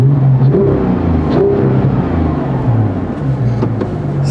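Porsche 991.2 GT3 flat-six engine revving to about 4000 rpm, a loud, close, throaty drone that rises and falls through a few blips.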